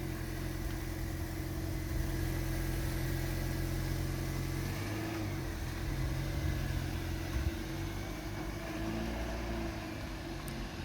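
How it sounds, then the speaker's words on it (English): A Vauxhall Astra car's engine runs as it pulls away, a steady low drone at a moderate distance that stays fairly even throughout and shifts slightly midway, with no voices. "There goes the Vauxhall Astra."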